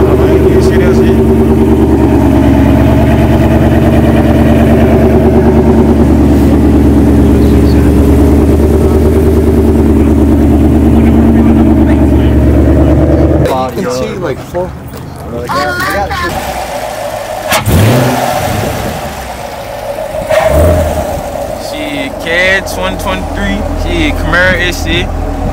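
A red Ford Mustang with an air intake and Roush X-pipe holds a loud, steady rumbling idle for several seconds, then the note breaks into rougher revs and bursts alongside clattering noise and nearby voices.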